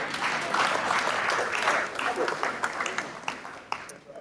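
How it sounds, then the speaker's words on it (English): Spectators clap at a talk on Ghanaian governance, a full burst of applause that thins out toward the end as a voice comes in over it. "Let's give Mercy a round of applause"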